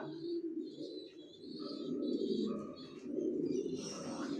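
Racing pigeons coo steadily in a breeding loft, the low throaty warbles overlapping continuously and close by, with a few faint higher chirps and rustles mixed in.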